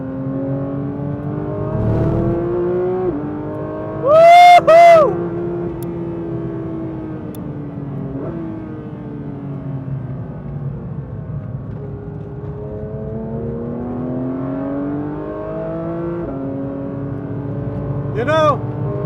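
A Porsche 911 GT3 engine in track mode, heard from inside the car as a steady droning growl that rises and falls in pitch with gear changes, with a loud sharp rev burst around four seconds.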